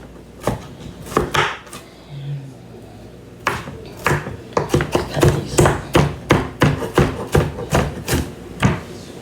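A knife dices food on a cutting board for sloppy joes, with a few scattered chops and then a steady run of quick, crisp strikes, close and clear.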